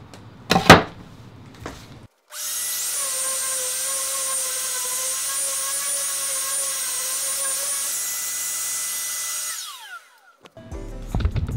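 A DeWalt sander fitted with a 3D-printed vacuum adapter whirs up and runs at a steady high-pitched whine for about seven seconds, loud and close, then winds down, with brief handling clatter before and after.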